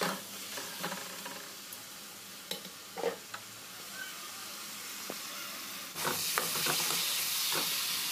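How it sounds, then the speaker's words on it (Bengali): Spoons scrape and stir chopped tomato with turmeric and coriander powder in a sizzling pan for a rohu fish and potato curry, giving a steady frying hiss with irregular clinks and scrapes, louder and brighter near the end. "তারপরে হলুদ গুঁড়ো, তারপরে ধনে গুঁড়ো দিয়ে ভালো করে এইভাবে মিক্স করতে হবে টমেটোর সঙ্গে"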